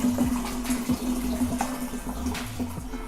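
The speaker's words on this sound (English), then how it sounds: "Pour it through the sieve." Strong black tea splashes steadily as it is poured through a sieve for kombucha, a loud continuous liquid gurgle with no voices.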